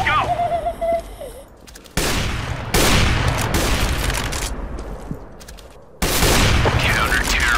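Rapid bursts of gunfire in CS:GO during a one-on-one match, loud and close, coming in dense clusters with abrupt cuts between volleys, alongside electronic game effects and a rising tone at the start.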